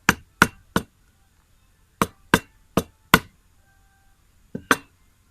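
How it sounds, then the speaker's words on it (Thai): A hammer taps a pipe into the neck of a glass bottle to make a faucet spout: sharp, close knocks, three in quick succession, then four more after a pause and a final single tap, with silence between. "แล้วก็ใช้ค้อนหรือใช้อะไรตอกก็ได้เข้าไปเลย"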